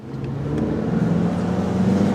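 A VW Jetta GLi engine accelerating, a steady rising drone with road rumble that builds gradually and stays loud and close throughout, no talk.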